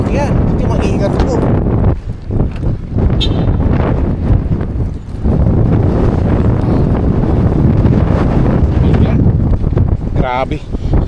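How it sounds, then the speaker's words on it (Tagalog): Strong winter wind buffets the microphone outdoors downtown in Canada, a loud, continuous low roar that gusts and dips for several seconds with brief lulls, with no clear voices. "Lakas ng hangin."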